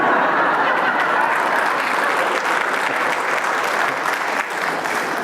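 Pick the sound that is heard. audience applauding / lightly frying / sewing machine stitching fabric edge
audience applauding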